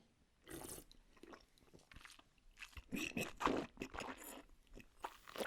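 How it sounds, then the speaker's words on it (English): A person swirling red wine in the mouth while tasting: faint wet sloshing and slurping bursts, close and irregular, growing busier toward the end. "I'm just swirling the wine in my mouth."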